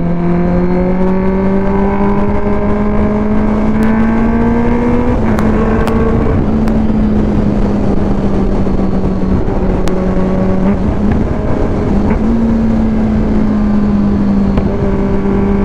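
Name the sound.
Kawasaki ZX-10R motorcycle riding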